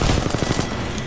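Rapid automatic gunfire from the video game Apex Legends: a tight, loud burst of repeated shots that fills about a second, with no talk over it.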